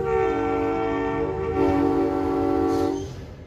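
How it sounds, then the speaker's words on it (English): A locomotive throttles toward the listener at about 20 mph, its engine a loud, steady, rich harmonic drone with a rumbling low end that swells slightly and then eases off, with no horn or bell sounding. "railroad veteran Christopher Whitley throttling this locomotive towards us at 20 miles an hour with no horn or bell"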